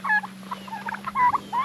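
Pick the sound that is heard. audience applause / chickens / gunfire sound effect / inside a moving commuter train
chickens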